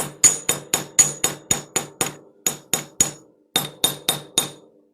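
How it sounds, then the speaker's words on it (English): A chasing hammer flattens the ends of copper wire for jewelry soldering: a rapid run of about sixteen crisp, ringing metallic taps, close and evenly spaced, with one short pause partway through and no talking. "Just going to take my chasing hammer and flatten."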